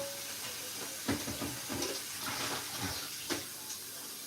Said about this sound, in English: I'm going to go and wash the dishes